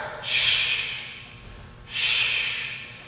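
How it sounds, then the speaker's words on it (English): Two forceful exhalations, one per leg kick, come during a stretching and flexibility exercise, each a breathy rush close to the microphone with a short pause between them. "each time you kick, you're breathing out"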